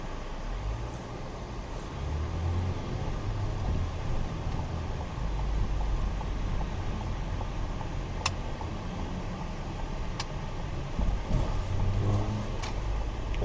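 A 2015 Ford Escape with a turbocharged 1.6 L four-cylinder rolls slowly into a used car lot, heard from inside as a steady low engine hum and road rumble with a few faint clicks.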